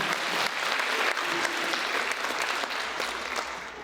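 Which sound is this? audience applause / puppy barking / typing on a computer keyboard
audience applause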